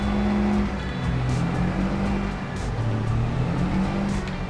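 Engine of a grass-covered truck in a farming video game, a steady droning motor rumble with shifting pitch as it idles and drives, continuous and fairly loud with no talking.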